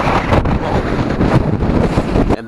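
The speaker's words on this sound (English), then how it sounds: "Bloody windy up here though." Strong wind buffets a hilltop above Ulaanbaatar, roaring loud and steady as it batters the microphone with continuous gusts and no speech.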